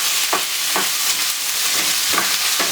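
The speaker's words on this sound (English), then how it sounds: "Fry it up for about 3 to 4 minutes." Cabbage fries in a hot pan, a loud, steady sizzle broken by repeated scraping stirs at regular intervals, with no voices.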